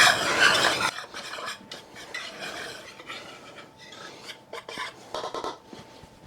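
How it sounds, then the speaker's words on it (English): Repeated scraping and rubbing of a whisk stirring Italian dressing into a mixture in a bowl, a loud burst at first, then steady rhythmic strokes near and alone. "Let's get all that whisked in together."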